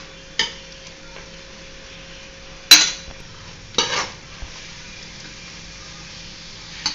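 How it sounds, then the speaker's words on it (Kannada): Scrambled egg is stir-fried on high flame for egg fried rice, a faint low sizzle under a few sharp spatula scrapes and knocks against the pan at irregular moments, no voices. "ಮೊಟ್ಟೆ ಒಂದು ಸ್ವಲ್ಪ ಉದುರು ಆಗೋವರೆಗೂ ಇದನ್ನ ಫ್ರೈ ಮಾಡ್ಕೋಬೇಕು."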